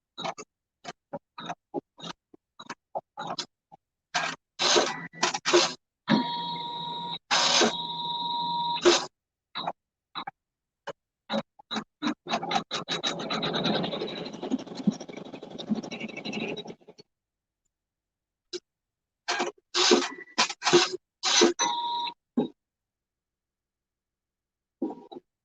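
Janome MC 500E embroidery machine stitching in short bursts, rapid mechanical clatter with pauses and a longer steady run in the middle, fairly quiet and alone with no talking.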